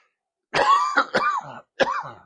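A man coughs several times in quick succession, a harsh, close series of rough bursts with short pauses between them.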